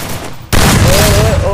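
A loud shotgun blast erupts in the Garena Free Fire video game and is followed by a sustained roar of battle noise, with a rising electronic tone at the end. Someone talks faintly underneath.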